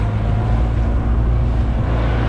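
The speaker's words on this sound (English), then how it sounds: "This is such a nice engine." Sailboat's push-button electric-start engine running at sea off Catalina Island, a loud steady low rumble with constant wind and water noise mixed in, no talking.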